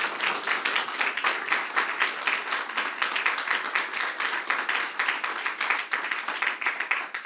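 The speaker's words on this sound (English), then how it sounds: "I'd just like a loud round of applause for JPX" Audience applauding the sponsor JPX at a gathering, a steady crackle of many hands clapping that holds even for several seconds at moderate loudness, with no voices over it.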